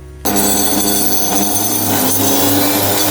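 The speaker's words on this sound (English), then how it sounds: "Keep blending them until they come to a nice thick and coarse consistency of a chutney" An electric blender grinding coconut chili chutney, starting abruptly and whirring loudly and steadily at close range, with its motor pitch dropping partway through as the mixture thickens.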